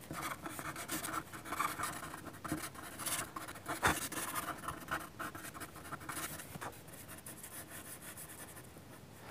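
A white pencil is drawn over a charcoal ballerina sketch on paper, making faint, close scratching and rubbing strokes in uneven bursts with short pauses.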